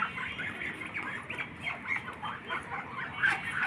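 A flock of ducks gathered together on a rooftop, quacking and squawking in a busy, overlapping chorus of repeated calls close by, with no voices.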